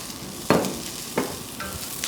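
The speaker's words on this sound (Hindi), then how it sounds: "सौते करना है इनको बस 10 सेकंड।" Onion and capsicum sautéing in oil, two or three sharp stirring scrapes over a soft continuous sizzle, close by and without any talk.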